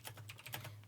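Quick computer keyboard typing, a flurry of faint, close keystrokes clicking in an irregular rhythm over a low steady electrical hum, with no voices.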